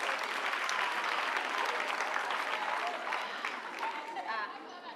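Audience clapping for primary school teachers at a school's tenth anniversary celebration, a full burst of applause with scattered crowd chatter that gradually thins and fades toward the end.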